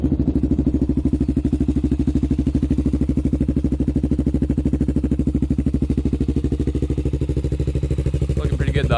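A Honda 400ex quad's engine idles steadily while warming up after sitting unridden for a while, a close, loud, even low putter that holds for the whole stretch with no talk.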